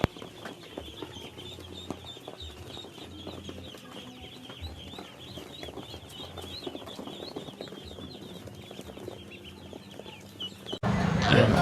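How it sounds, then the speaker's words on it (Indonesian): A brood of about 500 ducklings in a farm pen, a dense continuous chorus of high peeping and chirping with scattered flapping, steady throughout before a louder rustling burst at the end. "Ya anak bebek."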